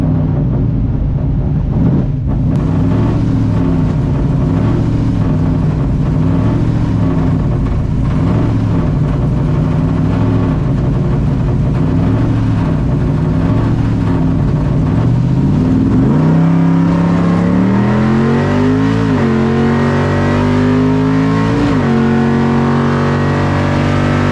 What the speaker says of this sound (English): trans brake launch in a Mark 1 Escort with a 351 Windsor